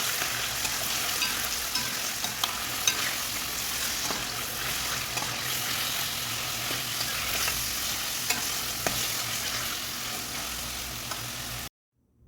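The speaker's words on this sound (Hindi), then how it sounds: "मुझे चिकन शामिल कर दिया, अच्छे से इसको मिक्स करेंगे" Chicken is stirred into creamy white sauce pasta in a pan, a continuous close sizzle layered with soft scraping and clicking strokes. The sound cuts to silence just before the end, and no one speaks.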